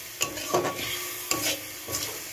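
A spoon stirs spice masala, mixed with salt and sugar, frying in a pan: a few rhythmic scraping strokes over a soft, steady sizzle, close up, with no talking.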